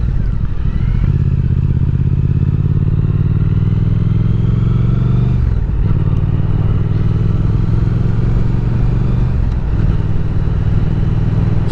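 A motorcycle engine runs steadily during a break-in ride at about 170 miles on a six-day-old bike, with a loud continuous drone, brief dips as the throttle eases twice, and wind noise throughout.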